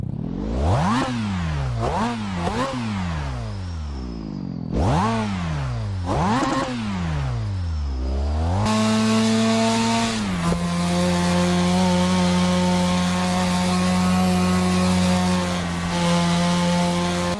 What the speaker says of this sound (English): Now listening to the RX-7, you can definitely tell it's rotary powered